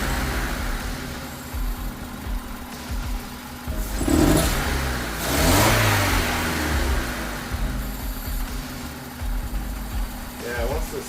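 The engine of a 2001 Honda Civic LX runs rough at idle, stumbling unevenly with a couple of louder surges in the middle, close by and moderately loud.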